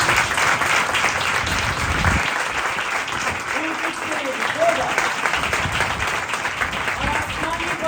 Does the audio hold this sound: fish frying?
no